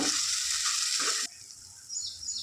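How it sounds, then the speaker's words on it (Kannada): A ground paste of onion, tomato, ginger, garlic and mint masala frying in oil for hotel-style chicken gravy: a loud, hissing sizzle that cuts down sharply partway through, then continues softer with a faint crackle. "ಹಸಿ ವಾಸನೆ ಹೋಗೋವರೆಗೂ ಎಣ್ಣೆಲೇ ಚೆನ್ನಾಗಿ ಫ್ರೈ ಮಾಡ್ಕೊಂಡು ಬಿಡಬೇಕು"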